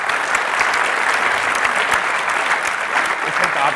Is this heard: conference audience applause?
yes